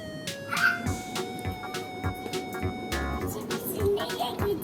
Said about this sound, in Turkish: Aa içeride de köpek var.